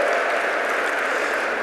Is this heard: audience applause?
yes